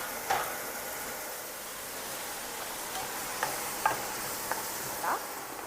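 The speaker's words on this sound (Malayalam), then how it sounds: "നല്ലോണം വഴറ്റാം." Ginger, garlic, green chilli and tomato masala sautéing in a pan for biriyani make a soft, continuous sizzle, with a few light clinks of a spoon scraping against the pan.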